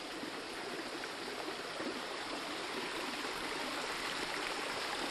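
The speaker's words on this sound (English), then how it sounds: "we're standing right near a pretty fast-moving creek here" A fast-moving creek rushes steadily beside the remains of a bridge, a loud, continuous broadband roar of flowing water with no pauses.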